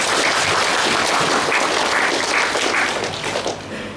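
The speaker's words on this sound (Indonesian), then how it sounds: "Tepuk tangan untuk beliau." Sustained applause from an audience at a junior high school motivation and prayer event for ninth graders, a dense wash of many hands clapping at once, steady and fairly loud before tapering slightly at the end.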